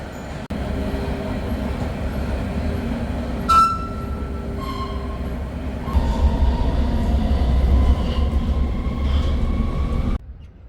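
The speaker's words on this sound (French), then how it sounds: "Me voici au métro Pannenhouse." A Brussels metro train at an underground station rumbles steadily, with squealing wheel tones and brake hisses over the low drone, growing louder toward the end before stopping abruptly.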